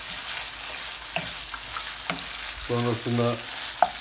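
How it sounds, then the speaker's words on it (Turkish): Mildly hot peppers fry in a pan while being stirred, giving a steady sizzle with scraping stir strokes and a few sharp clinks; one short spoken word comes early. "şimdi önce hafif acı olan biberimi şöyle bir karıştıralım yine"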